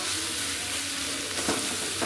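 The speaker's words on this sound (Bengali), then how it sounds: "ভাজিটা এভাবে আস্তে আস্তে করে নিব, সুন্দর করে ভাজা ভাজা করে নিব" Vegetable bhaji of greens and beans frying in a pan while being stirred, a steady close sizzle with scraping stir strokes throughout and no talking.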